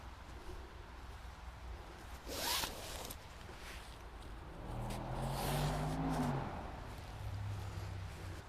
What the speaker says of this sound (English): unzip the foot box